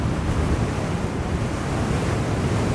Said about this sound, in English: It feels like I'm into the wind this way.